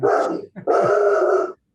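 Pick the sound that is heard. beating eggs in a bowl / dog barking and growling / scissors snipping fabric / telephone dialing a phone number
dog barking and growling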